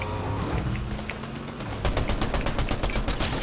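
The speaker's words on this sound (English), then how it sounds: "They're shooting at us." Rapid gunfire from an enemy team in an online shooter game, bursts of sharp shots cracking at a steady quick rhythm, thickening into a dense volley in the second half over a low game soundtrack.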